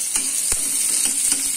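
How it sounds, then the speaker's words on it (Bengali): Chopped onion frying in a pan with cumin and green chilli for a spicy fish curry, stirred with steady scraping strokes; a continuous close sizzle runs underneath with a few sharper spatula knocks. "পেঁয়াজ কুচি দিয়ে এবার নাড়বো ভালো করে।"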